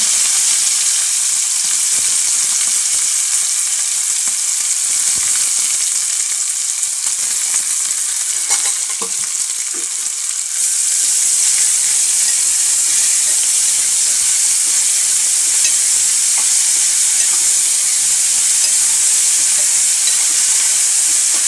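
Chopped onions and green chillies frying in a pan, a loud, steady hiss of sizzling oil that runs the whole time with faint stirring.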